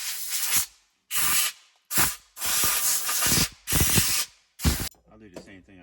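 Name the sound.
air blower with brake-tubing wand blowing dirt out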